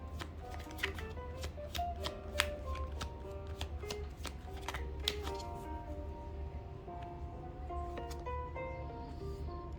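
Tarot cards are shuffled by hand in a quiet indoor reading, a faint run of soft riffling slaps and clicks repeating steadily, with no one speaking.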